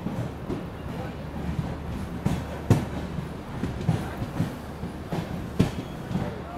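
Diesel train rumbling at the small Birur Junction railway station on the Miraj to Bangalore route, a steady low engine drone with intermittent clanks and thumps from wagons, continuous throughout.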